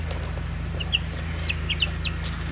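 Young chickens hatched in a brooder give soft, high chirps and clucks, a handful of brief peeps scattered over a steady low hum, close by and fairly quiet.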